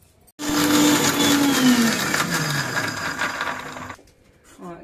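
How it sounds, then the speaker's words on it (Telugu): A kitchen mixer grinder blends cut carrot pieces for carrot milk, starting abruptly with a loud whirring whine whose pitch slides down as the load settles, then cutting off after about three and a half seconds. "నేను ఇలా కట్ చేసి ఇదిగోండి మిక్సీ పట్టుకున్నాను"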